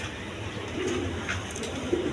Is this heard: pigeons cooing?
yes